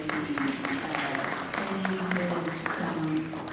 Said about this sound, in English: one more round of applause for our Tour de team